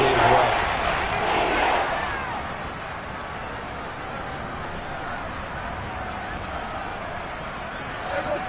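A stadium crowd in a Madden football game roars loudly at first before a big third down, then settles into a steady hum of noise.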